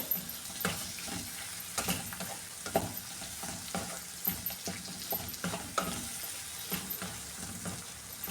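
Chopped tomatoes stirred in a hot pan for a tomato curd curry, with a steady sizzle broken by repeated close scraping strokes of the spoon.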